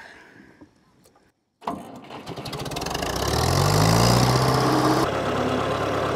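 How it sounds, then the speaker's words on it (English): A 60-year-old hay baler driven off a tractor's PTO: after a brief pause the tractor engine starts abruptly and the baler mechanism spins up, building into a loud, steady mechanical drone close by. "I'm going to go ahead and start this tractor up and run the baler a little bit off the PTO"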